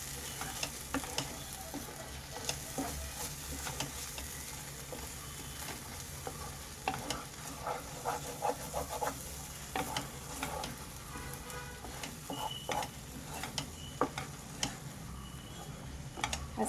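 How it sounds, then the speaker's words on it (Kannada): Coriander powder and garam masala frying in a pan for egg masala, with quiet sizzling and repeated stirring clicks and scrapes of a spoon throughout. "ಈಗ ಚೆನ್ನಾಗಿ ಫ್ರೈ ಆಗಬೇಕು."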